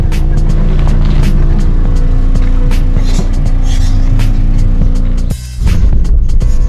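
A car drives along with a German Shepherd riding inside, giving a loud, steady engine and road drone with rumbling low end, a brief dip near the end, then the motor noise returns.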